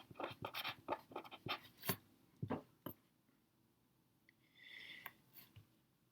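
Pen writing on paper during a chemistry lesson: close, quiet scratchy strokes in quick bursts, then a pause and a softer longer stroke, with no talking.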